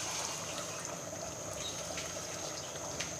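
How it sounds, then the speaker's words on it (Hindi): About a glass of water is poured into a pot of simmering beef shorba, giving a soft, continuous wash of liquid noise that runs steadily throughout, fairly faint and with no talking. "एक गिलास के करीब मैंने इसमें पानी डाल दिया"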